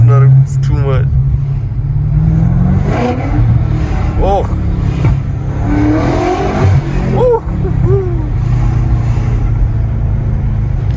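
A 2023 BMW F90 M5 Competition LCI engine is revved loud and close through repeated downshifts and upshifts, its pitch climbing and dropping in quick swells over a constant drone, with a voice talking over it.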